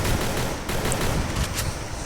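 Dense, continuous gunfire from a Counter-Strike match, a loud, unbroken wash of shots and crackling bursts lasting a couple of seconds with no clear gaps and no voices.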